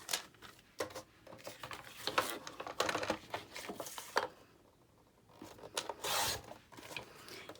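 Cardstock is trimmed on a paper trimmer: a series of quick, close scraping and rasping strokes comes in uneven bursts with short pauses between them, and a longer slide near the end.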